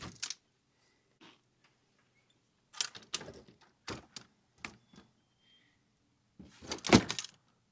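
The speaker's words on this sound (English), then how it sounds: "See if the door still opens." The door of a 2001 Rockwood pop-up camper being worked open and closed, with a series of sharp clicks, latches and rattling knocks in short bursts separated by quiet pauses.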